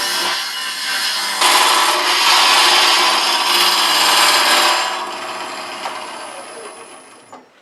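Curved lathe tool shearing a spinning Norfolk Island pine workpiece, a steady loud broadband hiss and rasp that swells for a few seconds mid-cut, then eases and fades away near the end.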